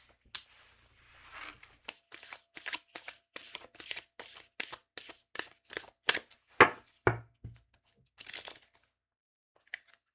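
A deck of tarot cards is shuffled by hand before an advice card is drawn, making a quick run of crisp riffling and slapping bursts at close range that trails off into a few quiet taps.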